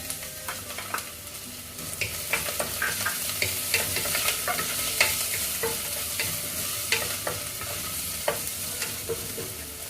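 Ginger and garlic hit hot oil with fried coconut pieces for a squid roast, a steady close sizzle broken by repeated stirring scrapes of the spoon against the pan, with no talk.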